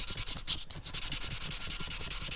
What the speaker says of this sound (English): So I'm probably sanding a lot more than I need to